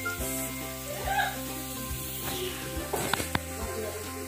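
Coconut milk boiling down in a pan into homemade coconut oil gives a steady, close bubbling sizzle, with a couple of sharp knocks near the end.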